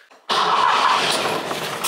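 Citroën 2CV AZA engine cranked on the starter with the choke pulled, catching after a brief churn and settling into a loud, steady, buzzy run close by.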